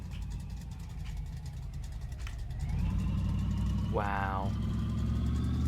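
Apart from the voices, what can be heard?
car engine running, from the video game My Garage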